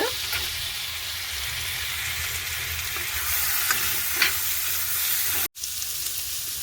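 Chopped dried anchovies (nethili karuvadu) sizzle and crackle in a frying pan as they are stirred in, a steady close hiss with scraping strokes, briefly cutting out near the end.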